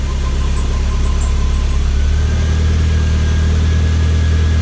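A 1991 Toyota MR2 Turbo settles into a steady idle, its low engine drone continuous and close throughout, with a faint high whine running above it.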